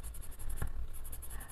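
A fairly hard colored pencil scratching on paper while coloring a coloring book, a steady close-up rhythmic scribbling of quick back-and-forth strokes, soft and dry, with no talking.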